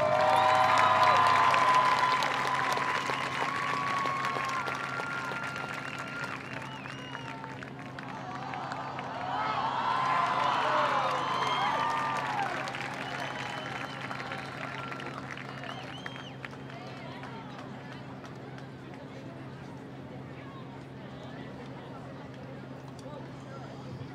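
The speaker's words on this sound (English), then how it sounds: "Let's give all these drum majors and flag captains another great round of applause" An audience at a marching band and color guard invitational applauds the drum majors and flag captains. Loud clapping and crowd noise swell, then ease into lingering scattered applause with babble and a voice on a loudspeaker.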